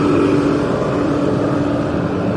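A homemade corn dryer running its fan and 4 kW engine with a gas cylinder, a loud, steady, unbroken mechanical drone and rumble heard close up, with no talking.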